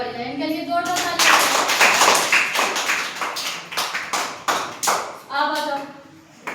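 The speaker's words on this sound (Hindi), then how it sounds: "बहुत बढ़िया, इनके लिए जोरदार ताली।" Children clap together in a classroom activity, fast irregular patters of hands close by, with brief singing voices at the start and again near the end.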